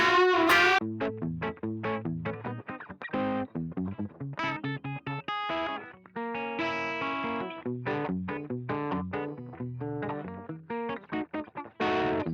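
An electric guitar played through a distortion pedal on a cheap pedalboard, with chords and single notes in a loose, rhythmic run, up close and alone.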